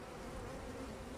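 Honeybees buzzing at an open hive while a queen is introduced to a colony, a dense, steady, close drone with no voices.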